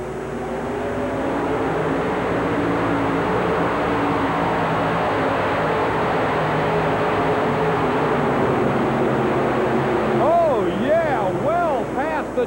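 Engine of the Powell pulling tractor from Apex, North Carolina, at full throttle during a pull in the Houston Astrodome, a loud sustained roar with a rising whine near the end, with an announcer talking over it.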